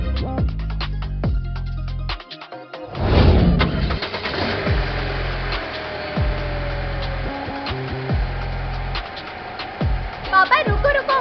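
A car engine cranks and catches, then settles into a steady idle with a few revs, heard close up while voices talk over it.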